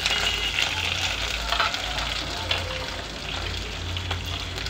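Curry leaves, onions and green chillies fry in hot oil with a continuous, moderately loud crackling sizzle and faint stirring scrapes, for a raw banana stir-fry.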